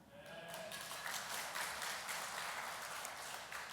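Church congregation clapping together, a dense, steady wash of many hands applauding at moderate distance, sustained for a few seconds without talk.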